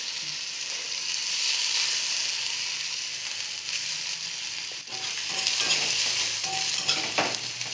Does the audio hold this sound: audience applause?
no